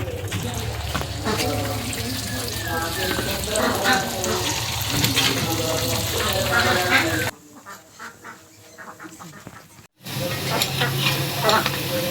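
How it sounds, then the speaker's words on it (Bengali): Palm gulgula fritters frying in hot oil, a steady close bubbling sizzle with stirring, briefly dropping to near quiet before the frying resumes. "আর এই যে তেলে গুলগুলি বানায় নিয়াম"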